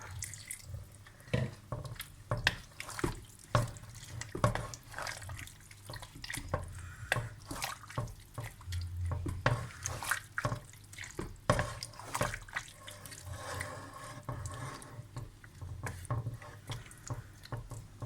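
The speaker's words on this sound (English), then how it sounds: "add another 2 cups of water, or just enough to cover" Water poured into a pot of samp, a steady splashing and dripping pour close by, running on with uneven bursts for the whole stretch.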